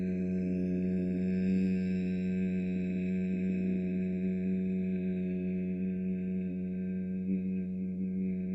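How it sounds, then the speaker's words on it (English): A single person hums a long, steady, low-pitched tone on the out-breath during bhramari pranayama breathing, holding it evenly and softly throughout. "humming the out-breath until the lungs are empty"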